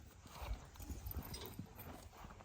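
Working horses' hooves clip-clopping at a steady walking rhythm, faint and somewhat distant over a low rumbling outdoor background.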